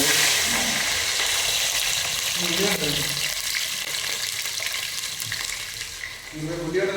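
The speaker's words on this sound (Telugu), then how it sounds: "ఇదైతే లవంగాలు రెండు వేసుకుంటాం సౌండ్ వస్తుంది" Cloves and dried red chillies sizzling in hot oil for bagara rice, a steady loud frying hiss filling the whole stretch with faint stirring scrapes and brief low voice murmurs.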